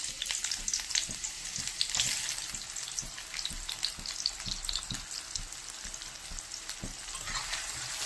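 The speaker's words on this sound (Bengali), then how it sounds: "এবার পেঁয়াজটাকে সুন্দর করে লাল করে ভেজে নেব।" Chopped onions sizzle in hot mustard oil in a pan on a gas stove. The frying crackles steadily and densely up close, with stirring clinks at intervals, and there is no speech.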